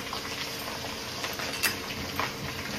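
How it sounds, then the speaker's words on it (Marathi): Peanuts, cumin and mustard seeds fry in oil in a kadhai for poha chivda, giving a continuous close bubbling sizzle with a few sharper pops and crackles; no talk. "व्यवस्थित त्याला तळून घ्यायचं आहे आपल्याला।"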